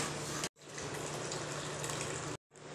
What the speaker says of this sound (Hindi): साथ में डालेंगे गर्म किया हुआ पानी।